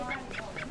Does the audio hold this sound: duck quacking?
yes